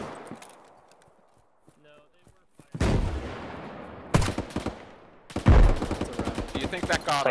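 In the Arma military video game, a rocket launcher fires with a sudden loud blast and a roaring, echoing tail, followed by another heavy boom amid sparse rattling shots, after a quiet stretch of fading rumble.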